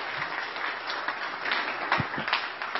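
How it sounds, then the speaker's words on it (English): A crowd applauding speakers after a Q&A on hiring engineers, dense clapping sustained throughout at moderate loudness, with no speech. "let's give another round of applause to all the speakers"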